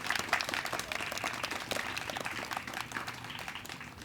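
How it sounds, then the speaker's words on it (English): A crowd applauds outdoors at a splash pad groundbreaking for the Lake Rim Recreation Center, scattered but continuous clapping heard at modest level and fairly distant, with no talk over it. "Can we give them a round of applause,"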